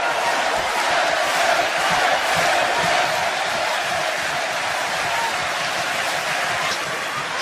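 A large wrestling arena crowd at a WWE SmackDown event roars in a steady, dense wash of cheering and shouting, with a commentator's voice running over it throughout.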